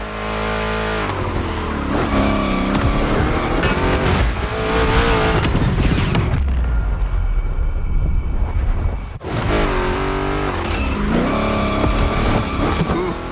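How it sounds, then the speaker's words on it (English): Two Chevrolet big-block cars race in The Crew Motorfest, loud roaring engines revving and shifting almost continuously, with tire squeal and a short, quieter, muffled stretch in the middle before the full roar returns. "Two Chevys, two big blocks, but only one winner."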